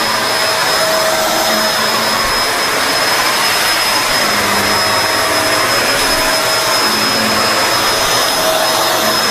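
A Kenmore Allergen Seal vacuum cleaner runs on carpet, a loud, close, steady roaring whine that holds unbroken for the whole stretch with a high tonal hum riding on top.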